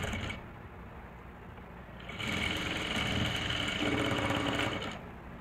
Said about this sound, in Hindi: और इस पर डबल सिलाई लगाएंगे।